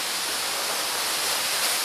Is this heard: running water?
yes